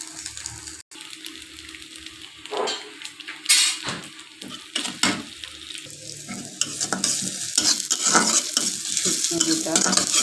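Panch phoron spices with ginger and garlic sizzle steadily in a hot pan while a utensil stirs and scrapes, giving bursts of metallic clatter and scraping over a constant frying hiss.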